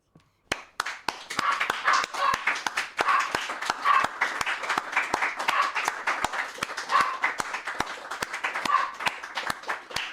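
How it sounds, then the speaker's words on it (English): Steady applause from a crowd, sharp claps continuing rhythmically for several seconds at close range with no voices over it. "For all them, for the eternal truth, a great big applause"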